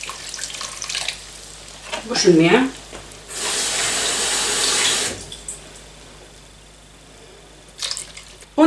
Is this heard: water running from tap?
yes